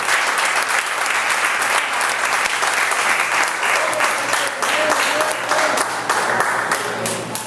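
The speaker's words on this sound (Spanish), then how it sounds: "El aplauso al Rey de Gloria." A church congregation applauds during worship in a loud, continuous wash of many hands clapping together, steady from start to finish with faint voices and a low hum underneath.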